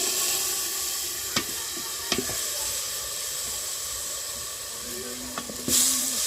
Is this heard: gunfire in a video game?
no